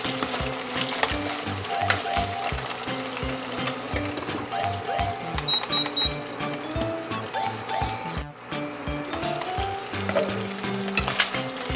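Pork browns in a pan for sautéed Baguio beans with mushrooms, a soft sizzle and crackle running under tonal music and background sounds, moderately close.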